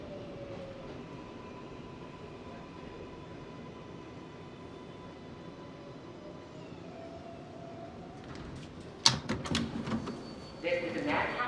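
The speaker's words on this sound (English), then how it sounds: "This is a Manhattan-bound 7 local train." A Manhattan-bound 7 local subway train in New York City rumbles steadily on its run, with a low rolling drone and squealing tones, then sharp clattering and rattles near the end as it moves through Queens.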